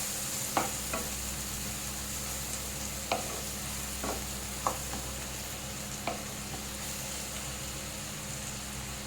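Stingray curry frying and being stirred with green chillies and chilli powder: a constant dense sizzle with scattered sharp scrapes and taps of the spatula against the pan, close and even, with no talk.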